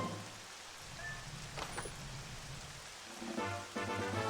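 Steady rain falls in a Twilight Princess Randomizer game scene, a broad, even hiss running throughout with a few brief game tones and chimes sounding over it near the end.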